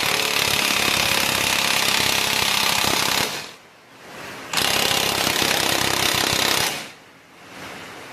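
An impact wrench drives the CV axle nut tight on a 2009 Honda Civic front spindle, two long, loud, rattling bursts separated by a short pause, with a brief tail of quieter shop noise after each.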